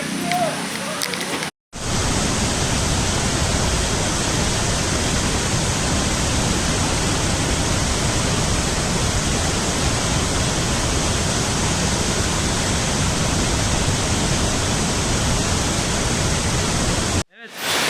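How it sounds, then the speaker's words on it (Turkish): A waterfall at a restaurant in Bandung, Indonesia, gives a steady, loud rushing roar with no pauses, briefly cut off near the start and end. "şöyle bir mekanda oturuyoruz arkadaşlar. Böyle şelale manzaralı"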